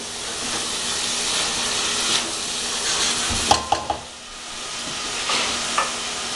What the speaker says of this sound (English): So basically I'm going to soften my onions.